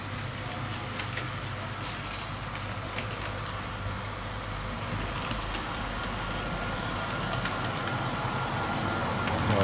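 A TT scale model ČD 850 locomotive running over track points, a steady, quiet mechanical rumble with faint clicks as it rolls through the turnouts, no voices.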